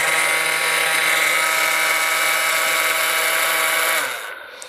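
A nail gun held with its nose piece pressed against wood runs with a loud, steady mechanical whine and hum for about four seconds, heard up close and alone before it winds down.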